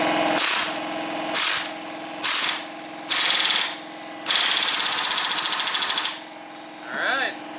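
Pneumatic air tool hammering on motor mount bolts of a 2008 Ford Focus, several short bursts followed by a longer rapid rattling run, with a workshop hum underneath.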